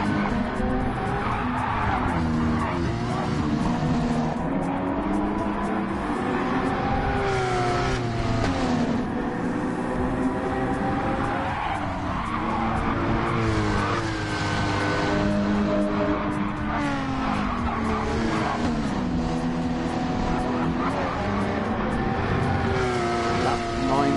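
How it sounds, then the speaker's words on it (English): Gran Turismo 7 Gr. 4 race cars at the Switzerland track, engines droning continuously with rising and falling pitch as cars pass, tires squealing, with a commentator talking over the racing. "Looks like rather a dangerous place to stand and watch the race cars go by"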